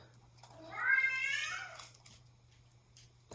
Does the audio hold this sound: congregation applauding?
no